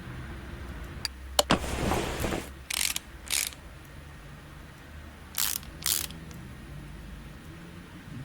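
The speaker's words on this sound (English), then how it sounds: "And we're going to put the caliper back on." A brake caliper is fitted in the Car Mechanic Simulator 2018 game, heard as a burst of mechanical whirring followed by several short, separate ratchet-like clicks and whirs, near and moderately loud against a quiet background.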